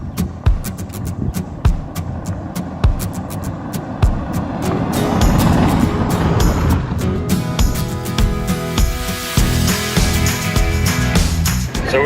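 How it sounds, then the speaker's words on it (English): A car jolts along a very rough outback road near Kings Canyon in central Australia, with a steady rumble of tyres and engine broken by sharp knocks and rattles from bumps. "So we're driving on this very rough road."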